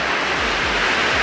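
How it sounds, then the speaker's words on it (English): Dense, steady roar of heavy rain drumming on a tin roof, a continuous loud wash of noise with no pauses. "I'm sorry about the noise. It's raining cats and dogs outside"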